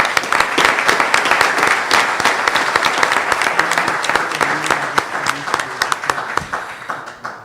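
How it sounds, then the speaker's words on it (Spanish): An audience at a conference on molecular genealogy breaks into steady applause for a history lecturer, many hands clapping densely and loudly for several seconds before tapering off with a few final claps. "Pido un aplauso, por favor, para la maestra en Historia"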